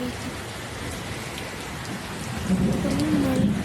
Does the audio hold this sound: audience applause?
no